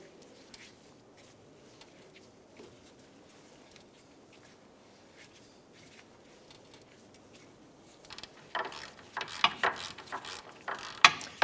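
3/8 ratchet snugging down bolts while replacing a rear wheel bearing and hub assembly on a 2009-2015 Honda Pilot; faint ticks at first, then quick close clicking bursts near the end.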